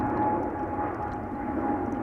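A Boeing 777-300 airliner at Amsterdam Schiphol Airport produces a steady engine roar and low rumble with a faint tonal hum, constant and moderately loud.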